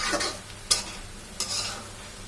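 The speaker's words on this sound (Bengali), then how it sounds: "এখন আমরা এটাকে একটু নাড়াচাড়া করে দেব।" Jute leaf greens (pat shak) stirred in a pot: continuous scraping and rustling over a steady sizzle, with two sharper knocks of the spoon against the pot and no talking.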